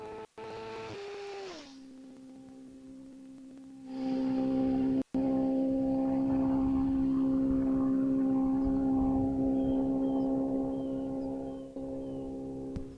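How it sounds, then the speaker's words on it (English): A 2022 Kawasaki Ninja ZX-10R on a racing run: a low, tonal engine note at first, then from about four seconds a loud, sustained high-revving roar that holds steady before easing slightly near the end. "on the go is Ken Setchler in his 22 Kawasaki Ninja ZX-10R"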